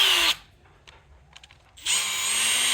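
A power drill spinning an engine valve to lap it into an LS cylinder head, a loud whining motor that cuts out, leaves a pause with a few small taps and scrapes, then starts again and winds up to a steady pitch.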